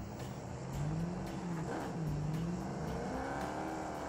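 A car engine in the mobile game BGMI drones steadily with rising and falling pitch as the vehicle drives, loud and continuous.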